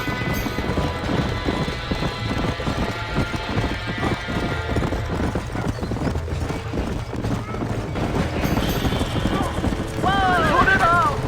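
Horses clop and whinny amid a chaotic, noisy burning-barn scene in the video game Red Dead Redemption, with people shouting over the commotion and a shrill neigh near the end.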